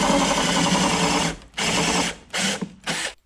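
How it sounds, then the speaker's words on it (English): A power drill with a spot weld bit bores through a rusty rocker panel on a Mercury Sable station wagon, whining in a long strained burst and then three shorter bursts, close and loud with brief pauses. "The drill was sort of protesting."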